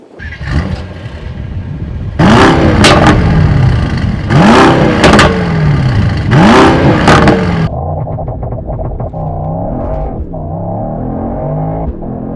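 A Mercedes-AMG GT63 with a 4.0-liter bi-turbo V8 accelerates hard, its loud, close engine climbing in pitch through three rapid upshifts, then settling into a steadier, quieter drone.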